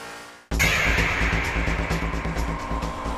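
A Honda Integra Type R, the 98 Spec R, runs hard on the race track at Fuji Speedway after a brief pause, giving a loud, steady, close engine roar that holds for the rest of the clip.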